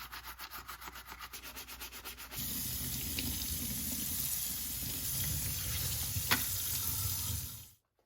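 Water running at a sink while a PS2 Slim console case gets washed, a steady close rush of tap water with scrubbing, preceded by a brief rhythmic rubbing and ending abruptly.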